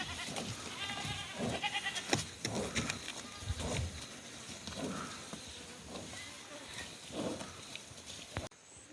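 Cattle running through a harvested rice field in the Konkan countryside, with scattered hoof thuds and rustling, faint animal calls and background voices and ambient noise throughout.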